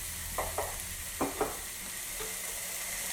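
Mushroom, capsicum and spinach sandwich filling stirred in a pan, with a few brief scrapes of the spoon over a quiet, steady sizzle.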